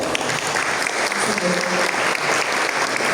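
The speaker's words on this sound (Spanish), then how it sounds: "Le damos un aplauso, por favor" Audience at a medical education meeting on preeclampsia applauds the doctor, a steady, dense wash of clapping that continues evenly throughout at close range.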